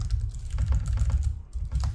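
Close keystrokes on a computer keyboard as HTML code is typed, a quick irregular run of soft clicks and taps with a brief pause midway, heard alone.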